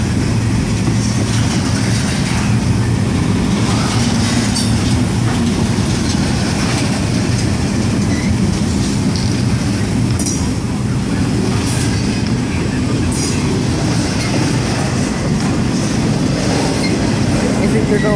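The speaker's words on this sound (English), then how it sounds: "Must be a light train." A light train rolls past on rails, a loud, steady rumble with clickety-clack wheel noise and occasional squeals, close by and continuous throughout, with no voices.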